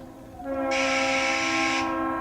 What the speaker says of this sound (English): Train. Don't know how often that happens, but interesting.